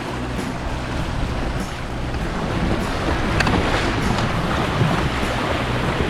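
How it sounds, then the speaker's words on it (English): Wind rushes steadily over a sailing boat on Lake Wānaka, mixed with water washing and occasional faint knocks and flaps, a continuous outdoor roar with no voices. "see how long this wind lasts"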